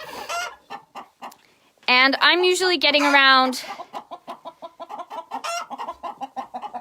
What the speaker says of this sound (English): all the rest of these hens, they're just in here just laying eggs